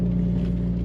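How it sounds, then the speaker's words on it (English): Loud exhaust of a car that won a German exhaust loudness contest, a deep steady droning rumble held close and heavy throughout the short moment, with no talk over it. "this car has won in Germany the loudest exhaust at an exhaust contest"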